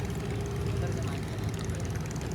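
A boat's outboard engine drones steadily at close range on the Amazon River, a continuous rough hum with no breaks.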